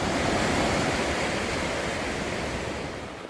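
Atlantic Ocean surf at the beach at Cape Hatteras, a loud steady wash of breaking waves and rushing water filling the air, easing slightly toward the end, no voices.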